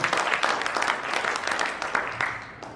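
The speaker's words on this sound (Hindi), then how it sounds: "एक बार जोरदार तालियां अपने लिए दोस्तों।" Applause from a seminar audience, a dense patter of many hands clapping together, steady and fairly close, continuing for a few seconds before easing slightly at the end.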